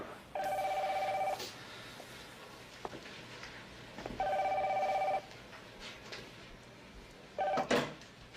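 A telephone bell rings in a movie scene, three bursts of ringing with pauses between them, fairly clear over a quiet room background, the last burst cut short by a thud.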